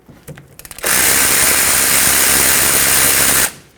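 A ratchet or power tool breaking loose the 14mm caliper bolts on a 2006-2010 Hyundai Sonata rear brake, a few short clicks followed by a steady, loud, continuous whir lasting a few seconds.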